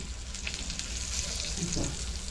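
Oil sizzles and crackles steadily in a pan around slices of shirola kaap (ridge gourd) being fried until crisp, a dense, close hiss throughout.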